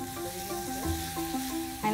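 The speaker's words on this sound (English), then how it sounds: "I can just hear the sausages sizzling away." Sausages sizzle in a frying pan, a close, crackling fry running steadily under faint tonal background sounds.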